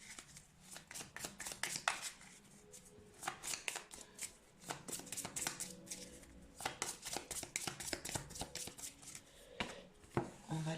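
Oracle cards shuffled and drawn by hand, a quiet run of crisp riffling bursts and soft slaps with brief pauses between, close and alone without talk.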